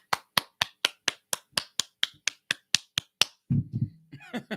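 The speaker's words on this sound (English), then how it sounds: "Everybody clap your hands." Hands clap in a steady, evenly spaced beat, about a dozen crisp, close claps, before a voice briefly takes over at the end.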